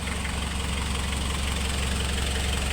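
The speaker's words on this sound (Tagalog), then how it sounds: "Ito po mga kabos amo, umandar na po ang ating truck." Suzuki ELF diesel truck engine running after an overhaul and radiator repair, idling with a steady, close, loud rumble and an even knocking pulse throughout, no voices over it.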